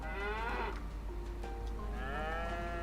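Cattle in the Farming Simulator 25 video game give several drawn-out moos, overlapping and fairly close, over a steady low hum.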